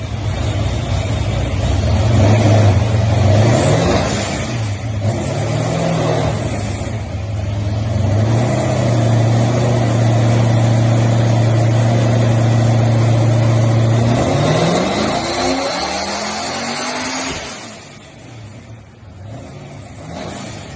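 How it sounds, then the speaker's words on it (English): A 1000hp supercharged LSX engine in a VN car runs on a dyno. Its loud, sustained roar climbs steadily in pitch, sweeps up hard near the end, then cuts back and fades to a low idle. "I'll put the final dyno run up here."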